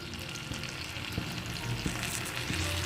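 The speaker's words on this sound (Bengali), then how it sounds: "তেলটা গরম করে নিয়েছি এবার পাতাগুলোকে দিয়ে দেবো" Bottle gourd leaves sizzle steadily in hot oil, a close, continuous crackle broken by a few soft taps and clunks from the pan.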